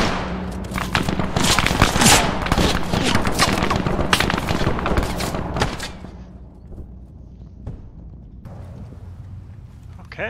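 Gunfire in a World War II video game battle at Kasserine Pass: dense, rapid bursts of shots and machine-gun fire, loud and close, fading after about six seconds into sparse thumps and scattered distant shots, with voices talking.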